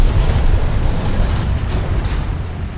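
A bomb blast in War Thunder rolls out as a heavy, loud, low rumble that fills the moment and slowly fades, with no voices over it.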